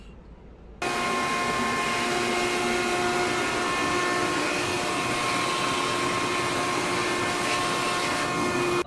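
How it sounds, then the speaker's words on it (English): A shop vac sucks runoff water from the bottom of a cannabis grow tent: after a brief quiet moment the motor kicks on abruptly, and a loud, steady whine and roar holds for the rest of the clip, close by and alone. "But I'm going to use my handy dandy shop vac."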